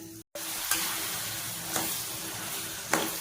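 Grated coconut fries in a pan, giving a steady continuous sizzle with a few sharper scrapes of stirring spaced through it, close and fairly loud.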